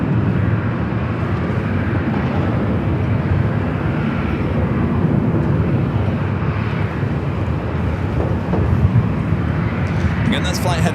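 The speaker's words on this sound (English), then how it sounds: "Arrival here on the north side, Southwest Airlines flight 639, coming up from Baltimore, Maryland, a 737 MAX 8" A jet airliner, a Southwest Airlines 737 MAX 8 arriving from Baltimore on the north side of Los Angeles airport, roars steadily with a broad continuous engine rumble, while someone talks over it throughout.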